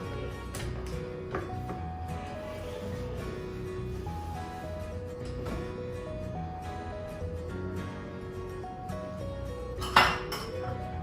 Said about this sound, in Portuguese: Vou pegar uma colher aqui para raspar aqui direitinho, para que a gente não desperdice nada da massa